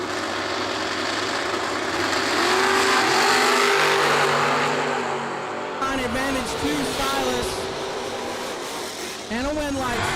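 A Camaro and another car launch down a drag strip at an old-school bracket race, engines roaring loud and rising under a track announcer, with a second pass of revving surging near the end.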